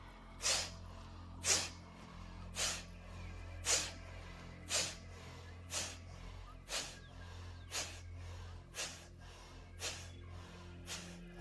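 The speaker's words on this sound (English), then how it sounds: "with Kapalabhati, so this forced exhale through the nose" A steady series of about a dozen sharp, forceful nasal exhales during Kapalabhati breathing in a yoga session, each a short hissing puff roughly one second apart, close and alone against a quiet room.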